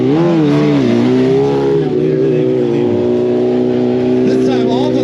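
At a BMW motorcycle stunt show at the Barber Vintage Festival, a BMW motorcycle engine revs loudly and up close, its pitch swinging up and down in repeated throttle blips before settling into a sustained high rev.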